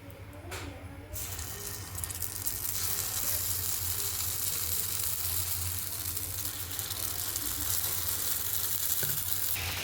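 Appe batter sizzling in an oiled appe pan, a loud steady frying hiss that swells after a brief clink at the start and holds evenly throughout.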